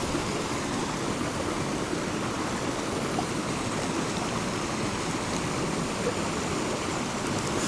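The fast-flowing Narayan Ganga river in Chamoli, Uttarakhand rushes with a loud, constant broadband roar, steady and close throughout with no voices.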